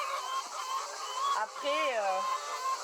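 Hens in a henhouse holding about 400 birds cluck and call steadily, with one clear rising and falling squawk standing out near the middle, all at close range amid the busy flock.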